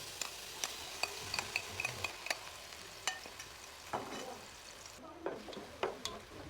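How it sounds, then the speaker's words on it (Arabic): Chopped onion fries in oil in a cooking pot, a soft steady sizzle broken by repeated sharp stirring scrapes and clicks at close range, with no talking. "وأول شي راح نحط فوق القدر الزيت، وفوقه البصل المفروم"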